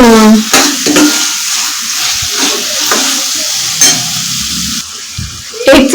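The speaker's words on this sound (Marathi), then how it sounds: "तर हे आपल्याला थोडस परतून घ्यायचं आहे" Ground masala paste for Kolhapuri misal sautéing in a pan, a steady close sizzle with repeated scraping stirs of a spoon, a few louder clatters along the way.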